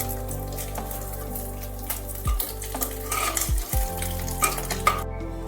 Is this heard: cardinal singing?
no